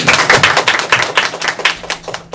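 An audience gives a short burst of applause after a student talk-show style debate presentation, quick dense claps close by for a couple of seconds, with no talking.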